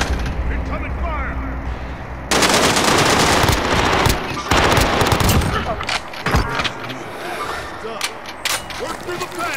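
Loud, sustained automatic gunfire in Call of Duty Cold War, with dense overlapping bursts of rapid shots that intensify partway through, then continue in choppier volleys.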